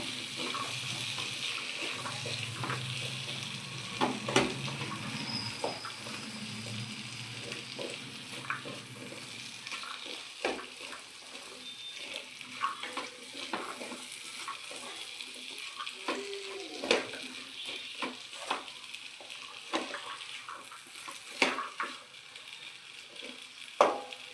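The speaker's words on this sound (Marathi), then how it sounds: "चांगले मिक्स होऊ द्या।" A spatula works through potato and pea curry in a frying pan, giving soft scraping and light clatter over a constant faint frying hiss, with scattered small clicks throughout.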